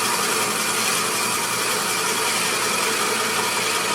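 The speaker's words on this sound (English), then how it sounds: "Okay, I'm just going to drill this out." A power drill bores through a block of black gum wood and walnut resin, giving a loud, unbroken grinding whir held at steady intensity close by.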